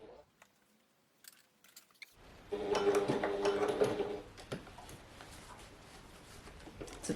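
A sewing machine stitches fabric on a small curve for a pouch, starting with a steady, close mechanical whirr and then a slower, uneven run of stitches. Quiet talk and small handling noises come first.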